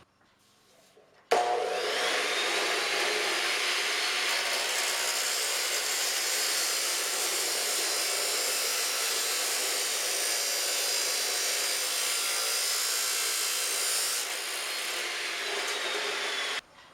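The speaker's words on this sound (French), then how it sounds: "C'est une machine à flamèche." A cutting machine slices small metal pieces and throws sparks, producing a loud, steady, grinding roar that starts abruptly, holds evenly for about thirteen seconds, then stops, with no talking.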